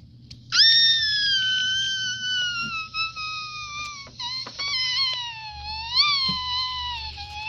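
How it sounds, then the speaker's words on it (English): A woman's long, high scream rings out, sustained for several seconds with wavering pitch and brief dips, loud and close over a low steady hum, with no talking. "heard a scream that sounded like a murder"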